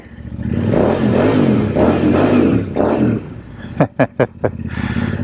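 A custom Royal Enfield Interceptor 650 motorcycle, built by Baxter Custom Works, revs its engine through a custom exhaust: a loud, close, sustained throbbing drone that rises and falls, then ends in a few sharp clattering pops.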